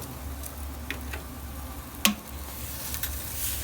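A rack of pork sears on a Grilla grill, giving a quiet, steady sizzle with a low hum beneath it and scattered faint ticks, plus one sharper pop near the middle.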